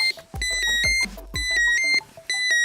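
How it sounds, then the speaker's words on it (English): WASP stability protection alarm unit going into full alarm, sounding a series of loud, shrill electronic beep bursts in an irregular repeating pattern, close by with no talk. "If the unit is then moved up or down, it will go into full alarm."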